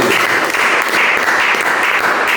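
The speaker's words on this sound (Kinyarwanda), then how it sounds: "tubahe amashyi cyane menshi cyane" An audience applauds children on stage with a dense, continuous burst of many hands clapping, loud and close, holding steady throughout without any voices over it.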